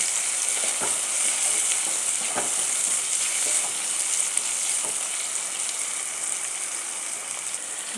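Ridge gourd and prawns sauté with onions in oil in a pan, giving a constant close hissing sizzle with occasional soft stirring scrapes throughout.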